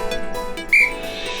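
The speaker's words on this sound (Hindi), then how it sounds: "किसको बुला रहे हो इस तरह सीटी बजा बजा के?" A person whistles a short, shrill note indoors, a single bright tone rising sharply near the middle and fading quickly, heard alone with no talk.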